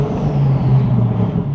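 Audi R8 Spyder with a twin-turbo V10 kit accelerating hard with the roof down, a deep, loud, droning engine roar with steady low rumble and faint shifting, close and continuous without talk.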